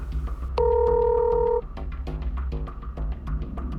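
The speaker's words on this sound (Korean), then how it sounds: "취재진은 해당 변호사에게 사실을 확인하기 위해 전화를 걸어보았습니다." Telephone dialing a call to a lawyer's office: a long, loud dial tone, followed by a quick run of short keypad tones and clicks, close up with no talk.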